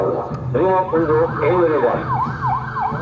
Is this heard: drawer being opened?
no